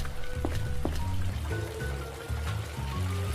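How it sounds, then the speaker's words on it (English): Waterfall water in a monkey-themed VR video game flows as a steady rushing, trickling wash with low bubbling tones and a few brief clicks, no voices over it. "Alright, this is the waterfall, isn't it? Yeah, it's the waterfall."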